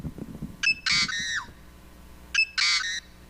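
Song built from yellow-headed blackbird recordings layered with other bird species: two repeated phrases, each a sharp click followed by a strained, buzzy, wheezing note, separated by a brief pause, with low thumps underneath at the start.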